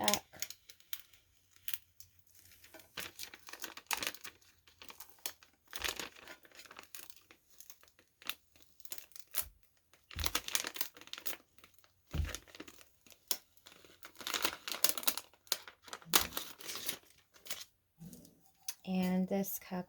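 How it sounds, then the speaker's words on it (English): Transfer tape is peeled off a cup in a series of close, crinkly tearing and crackling strips, quiet and irregular, ending with a brief voice. "Pull off the transfer tape, making sure everything's stuck."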